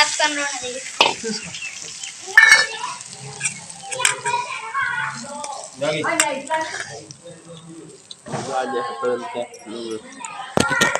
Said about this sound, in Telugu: పోపులో వేడి వేడి నూనె మామిడికాయ ముక్కల్లో వేసేసుకోవాలి